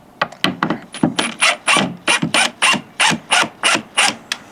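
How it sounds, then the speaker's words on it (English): A screw being backed out of a window frame during installation gives a rapid run of about fifteen sharp mechanical clicks and ratcheting bursts, close and clear with no talking. "I will remove this screw on this side."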